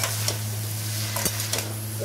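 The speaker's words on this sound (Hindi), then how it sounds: "और इसमें हम उसके बाद थोड़ा सा जैसे ये अच्छे से वेजिटेबल्स मिल जाएं इसमें" Vegetables for veg spring rolls stir-fried in a hot pan, giving a steady sizzle with a few soft scraping stirs, close and fairly loud, with a low constant hum underneath and no talking.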